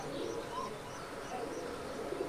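A Giribaj pigeon coos in bright midday sun, soft low repeated coos sounding close but fairly quiet over faint background noise, with no clear talk.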